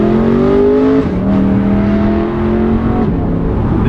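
A de-catted BMW E92 M3 revving hard close by: a loud, sustained engine howl with a pitch dip and recovery, and no talk over it.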